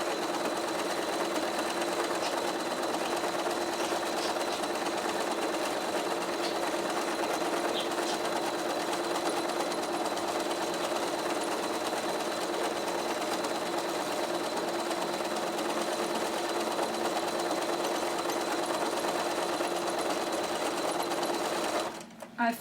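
A domestic sewing machine runs steadily at speed during free-motion stippling on a quilt, a close, continuous whirring drone for about twenty seconds before stopping abruptly at the very end.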